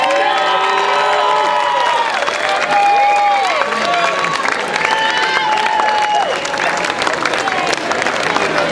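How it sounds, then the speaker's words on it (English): A large crowd at the finish of a Molokai-to-Oahu paddleboard race claps and cheers loudly for the first-place finisher, with excited shouts and voices rising and falling throughout over continuous applause. "Please give a big warm round of applause for our first place finisher"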